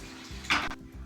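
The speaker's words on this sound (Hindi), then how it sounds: "ये 1 कप हमारे पास पानी का है वो भी हमने शामिल कर दिया।" A cup of water is poured into a chicken karahi cooking in the pan, making one short, fairly loud splash and sizzle that quickly fades back to a low background hum.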